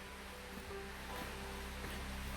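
A creek beside a campsite on the Foothills Trail flows with a steady, soft broadband rush, faint and continuous with no voices.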